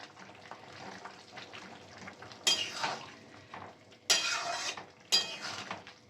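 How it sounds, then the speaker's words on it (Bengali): A spoon stirs bottle gourd greens curry in a pot, soft wet scraping broken by three sharper metallic clanks against the pot's side, fairly quiet and close. "ভালো করে এবার নেড়ে নিচ্ছি"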